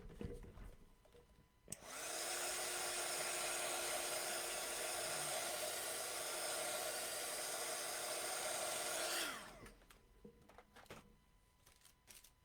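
A heat tool or dryer blows on wet paint on an art journal page, making a steady close whirring roar that switches on abruptly, holds for about seven seconds, then cuts off.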